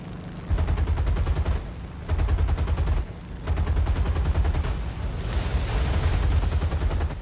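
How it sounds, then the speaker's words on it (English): Aircraft machine guns strafing in War Thunder, in three long rattling bursts of rapid fire separated by brief pauses, loud and close over a steady engine drone. "let's go in for another strafe and run"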